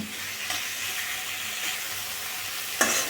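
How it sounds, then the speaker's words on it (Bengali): Prawns sauté over high flame with a steady frying sizzle, a hissing, crackling texture throughout, plus a brief sharper burst near the end as they are stirred in the pan. "এখন চিংড়ি মাছটা আমি এর সাথে কষিয়ে নেব ফ্লেমটা কিন্তু এখন আমি হাই করে দিলাম"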